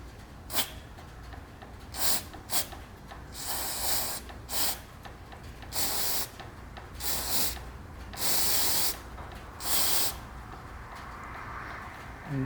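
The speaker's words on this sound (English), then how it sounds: "We're just going to go ahead and get the cleaner, clean it off" Mass airflow sensor cleaner sprayed onto the sensor of a twin-turbo Ford Mustang Boss 302, in about ten sharp hissing aerosol bursts of varying length separated by brief pauses, close to the microphone.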